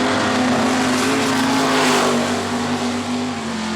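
A grassroots drag racing car launches off the start line at Manston Raceway with controlled wheel spin, its engine roaring loud and close in a sustained high-revving blast that eases slightly toward the end.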